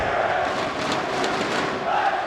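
A large esports arena crowd roars steadily at a Counter-Strike semi-final between Spirit and Vitality at IEM Dallas 2024, a dense, continuous wash of voices that holds at a constant level for a couple of seconds.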